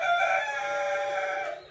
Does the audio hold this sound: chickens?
yes